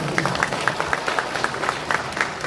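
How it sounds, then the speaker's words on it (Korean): An audience at a Korean county governor's village visit applauds with a brief, moderately faint patter of clapping, fairly even in rhythm, heard from a short distance. "박수 쳐주세요"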